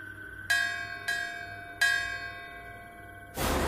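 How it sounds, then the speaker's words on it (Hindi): Three clear metallic temple bell strikes ring out one after another, each resonating and fading slowly, followed by a burst of noise at the end. "लेकिन तभी दूर से मंदिर की घंटियां बजने लगी।"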